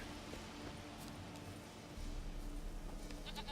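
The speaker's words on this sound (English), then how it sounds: "Here, goat." A goat bleats in the video game The Witcher 3, its calls set against an outdoor game ambience that grows noticeably louder midway.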